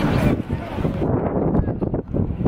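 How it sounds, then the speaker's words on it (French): Gusty wind in Paris buffeting a microphone, a loud low rumble that swells and dips throughout with no clear voice. "il y a du vent partout"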